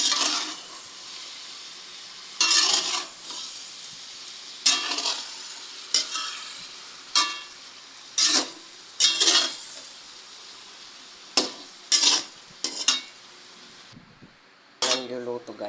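Pancit canton noodles and cabbage stir-fry in a pan, with a low sizzle under repeated loud bursts of utensil scraping and clanking, about a dozen strokes in an uneven rhythm, close by.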